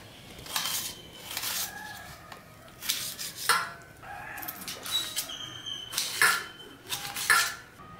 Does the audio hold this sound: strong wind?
no